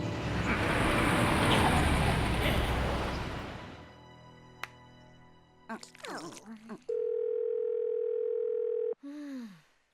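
A steady electronic phone ringing tone sounds for a few seconds, then cuts off and briefly restarts; no one answers, and noise and short chirps come before it. From the animated series Hello Carbot.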